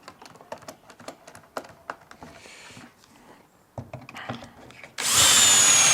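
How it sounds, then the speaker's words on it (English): Clicks and taps of handling and small tool noises, then a power drill kicks in loud and close drilling pocket holes, whining steadily to the end. "drilling my pocket holes, and then drilling in my screws afterwards to connect them"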